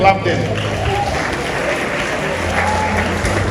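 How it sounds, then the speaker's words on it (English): Steady audience applause during a church or community gathering, a continuous wash of many hands clapping at moderate loudness, with some crowd murmur mixed underneath. "Clap them."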